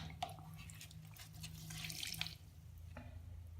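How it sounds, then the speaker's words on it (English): Water drips and trickles faintly from cloth pads being squeezed out by hand over a sink, a few soft splashes in a quiet room. "I'm not even going to rinse them. I'm just squeezing them out."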